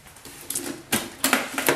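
A handle being pulled off a nail-supply storage box gives a quick run of sharp plastic clicks and snaps, four or five close knocks in under two seconds.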